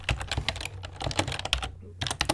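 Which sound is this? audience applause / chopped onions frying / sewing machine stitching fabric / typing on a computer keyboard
typing on a computer keyboard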